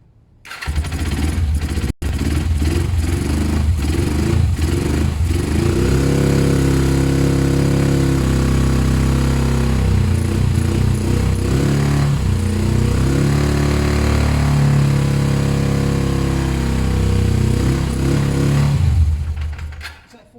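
A Suzuki GS500 motorcycle engine, 500cc, running on full choke with no airbox, starts and revs steadily and loudly close by for about twenty seconds before cutting off, with a brief gap near the start.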